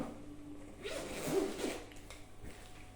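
A zipper on a Pokémon card binder is pulled open in one smooth, quiet stroke lasting about a second, alone with no talk.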